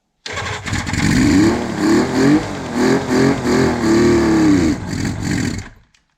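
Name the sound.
1976 Suzuki GT750 motorcycle engine cranking and starting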